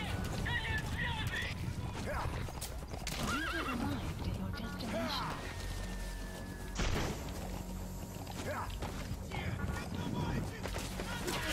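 A horse in the Metal Gear Solid V video game whinnies several times amid hoofbeats, with game explosions, effects and a voice mixed in.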